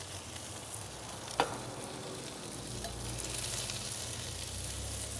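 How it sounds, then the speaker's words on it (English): Chipotle-marinated shrimp sizzle steadily on a cabbage and onion mixture over a charcoal grill, a continuous close frying hiss with one brief clunk early on. "right on top of that cabbage and onion mixture goes our chipotle marinated shrimp"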